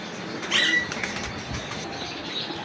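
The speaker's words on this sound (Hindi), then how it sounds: "खालिस चोई साहब वाले कबूतर।" Choi Sahab breed pigeons flap their wings in a brief, airy flutter burst, close by and moderately loud, with soft rustling and faint background noise after it.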